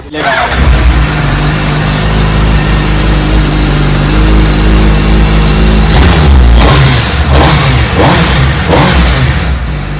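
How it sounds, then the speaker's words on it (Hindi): A stock motorcycle engine runs at a steady idle, then revs sharply several times in quick succession, loud and close, with no exhaust modifications. "बट स्टॉक बाइक की भी तो साउंड सुन लो"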